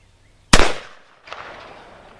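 A .45 Long Colt pistol loaded with 32 grains of black powder fires one sharp, loud close shot, followed about three quarters of a second later by a softer echo or secondary report that trails off.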